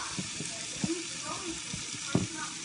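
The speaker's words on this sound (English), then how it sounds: "I'm just kind of cooking up the meat right now" Meat cooking in a pan gives a soft, steady sizzle with a few light scrapes and clicks of stirring scattered through, fairly quiet and close.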